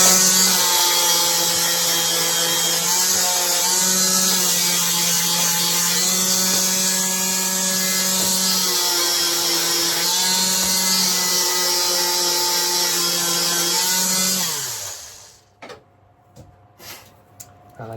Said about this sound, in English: I'm now going to put the sander over that again